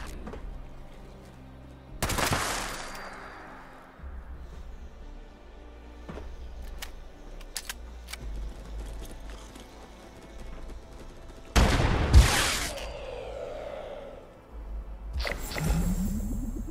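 Bursts of gunfire aimed at rad rats in Fallout 76, loud clustered volleys separated by quieter stretches, with several sharp single shots and a rapid burst near the end.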